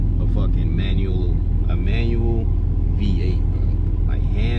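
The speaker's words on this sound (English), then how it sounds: "just hearing this car, bro, will make you fall in love with a fucking manual" A manual Chevrolet Camaro SS 1LE V8 rumbles steadily and loudly from inside the cabin while someone talks excitedly over the deep engine drone.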